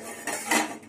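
Metal lid set back onto a cooking pot of boiling kharkol leaf greens, a couple of close clinking knocks of metal on metal with no voices.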